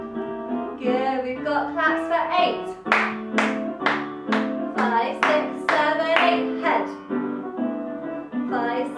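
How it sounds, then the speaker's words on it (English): Hands clap in a steady, even beat at a creative dance class for older people and people with Parkinson's. The run of sharp claps keeps time over warm music and continues throughout. "Claps for eight, five, six, seven, eight."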